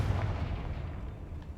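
A Confringo fire spell blast in the Hogwarts Legacy video game, a heavy low boom that swells at the start and rolls off into a dull rumbling tail.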